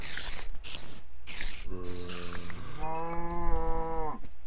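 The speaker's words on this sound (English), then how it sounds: "No, you're the one cow that I've seen in a while, so I'm definitely not killing you." A single cow in a Minecraft-style hardcore survival game gives two drawn-out moos, the second longer and higher, loud and close against a faint game background with no talk.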